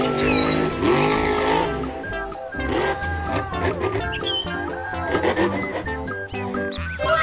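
A monster truck revs and roars with squealing, skidding tires, loud and continuous, with growling, animal-like tones mixed into the busy racing noise.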